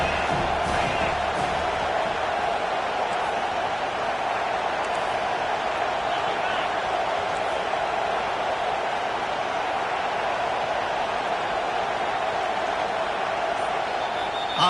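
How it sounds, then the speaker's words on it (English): A football stadium crowd roars steadily and loudly during a third-down defensive stand, a sustained wall of cheering and yelling with no breaks. "Decibels rising as the crowd gets behind this defense on third down."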